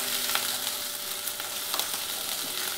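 Chopped garlic and ginger fry in hot oil in a pan, giving a steady, close sizzle with faint stirring scrapes and no voices.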